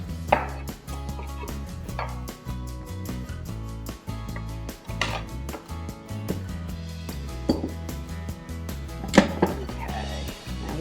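Steady rapid chopping of vegetables for gazpacho with a pastry cutter on a cutting board, close and fairly loud, with a few sharper knocks and no talk.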